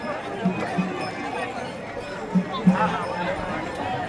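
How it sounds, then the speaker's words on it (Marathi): A crowd of pilgrims at Vishrantwadi on the Alandi to Pandharpur wari murmurs all around in steady outdoor chatter, with a few louder voices briefly rising above the babble. "खूप गर्दी आहे"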